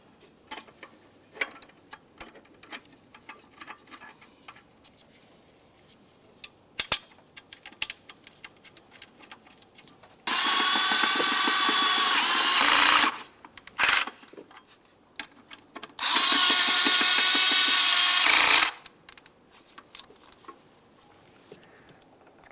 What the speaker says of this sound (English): Start in each of the mounting bolts, snug them up.